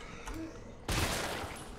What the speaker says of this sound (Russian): Desert Eagle калибра 50, блин.